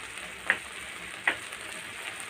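Sardines and egg fry in a pan for a breakfast dish, giving a soft, steady sizzle with two brief utensil taps against the pan, close but quiet, with no talking.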